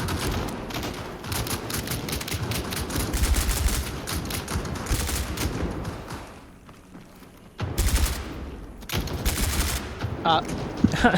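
Rapid bursts of gunfire crackle through a tense first-person horror game set in a containment breach, dense volleys with a brief lull midway before loud sharp shots return.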